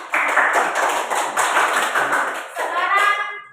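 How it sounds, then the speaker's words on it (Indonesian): A classroom group claps together in a quick, dense burst that runs for a few seconds before tapering off and giving way to a voice at the end. "tepuk tangan dulu buat kita semua."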